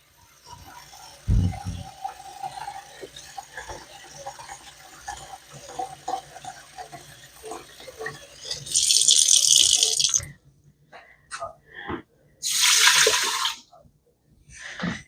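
Quiet kitchen clatter, then water pours into a pot in two strong bursts, a few seconds each, with a short pause between them.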